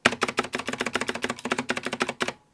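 A full-size Razer BlackWidow V4 Pro keyboard with green switches gives a quick run of about twenty crisp, loud key clicks in a fast, even rhythm, close up, ending in silence.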